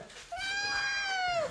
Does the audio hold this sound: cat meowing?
yes